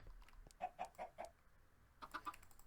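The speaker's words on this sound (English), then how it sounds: "Here is another chicken." A chicken in the Minecraft Stoneblock video game clucks in two short runs of soft, evenly spaced clucks separated by a brief pause. The sound is fairly faint with no talk over it.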